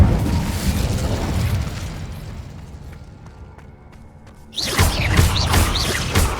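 An Incendio fire spell cast in Hogwarts Legacy, a loud rushing whoosh that fades over a few seconds, then an abrupt, bright burst of crackling fire and impact.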